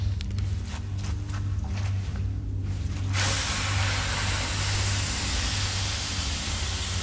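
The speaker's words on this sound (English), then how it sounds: "I guess it's just hot steam" Hot steam in the Valiant Hearts: The Great War game, underground, bursts into a loud broad hiss partway through and then holds steadily over a low background hum.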